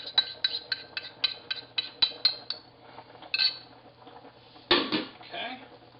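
A spoon stirs chicken curry in a cooking pot, making a quick regular run of metallic clinks against the pot's side, then a louder scrape and clatter near the end.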